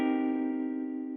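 A single sustained note from an electric piano sample in a plugin bank rings out clean and steady, rich in harmonics, slowly decaying over about a second with nothing else audible.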